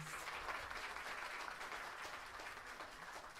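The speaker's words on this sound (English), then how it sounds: "please give a big round of applause to Myanmar Student Monks" An audience at a Vesak Day academic event applauds a team of Myanmar student monks, giving steady, continuous clapping that is fairly faint and distant.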